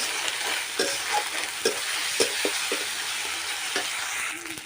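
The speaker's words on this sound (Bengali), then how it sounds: "তো দেখো আদা রসুনটাকেও ভেজে নিয়েছি।" Garlic paste fries in a pan for a jackfruit and pumpkin curry, a steady close sizzle punctuated by several sharp spatula scrapes and taps.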